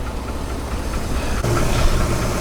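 A long-seized Honda CRX Si engine from a barn find, soaked in diesel, runs roughly just after finally starting, a low knocking, uneven idle that swells slightly louder partway through.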